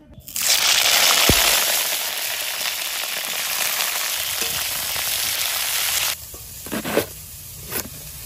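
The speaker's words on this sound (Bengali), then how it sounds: "ফুলকপি ভাজা হবে।" Cauliflower frying in a pan for a Bengali vegetable ghonto: a loud, dense sizzle rises almost at once, holds steady for about six seconds, then cuts away to quiet with a few soft clatters.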